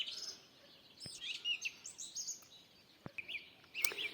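Several small birds chirp and trill close by in a spring garden beside a house, bright repeated calls rising and falling over quiet background, with a couple of sharp clicks or knocks between phrases.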